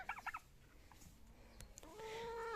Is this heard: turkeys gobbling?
yes